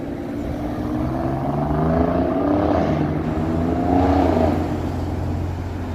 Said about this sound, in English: a very noisy car heading south down Bay Street.